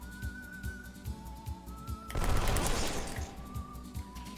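A gunfire attack in the video game Wild ARMS 3 breaks out as a loud, dense burst of rapid shots lasting about a second, set between soft rhythmic game music with thumping beats and a sustained tone.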